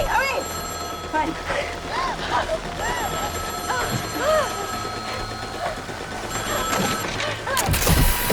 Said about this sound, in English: Now pick it up on the third ring!